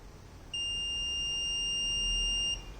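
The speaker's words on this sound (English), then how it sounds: "So initially beep comes" A single steady electronic buzzer tone sounds from a LoRa receiver for about two seconds, shrill and clear over faint background hum.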